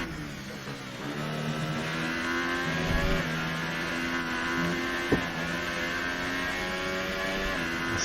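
Racing car engines in an F1 video game race at the Italian GP, a continuous high, tonal engine whine with shifting pitch and a brief click midway, steady and loud with no talk.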